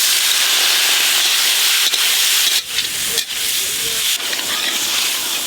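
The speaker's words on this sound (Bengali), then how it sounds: "চাটনির জন্য ফোড়ন দিয়ে দেবো গোটা লঙ্কা তেজপাতা আর গোটা এলাচ" Whole chillies, bay leaf and cardamom sizzling in hot oil for a tomato chutney, a loud, steady close-up hiss with a couple of brief dips.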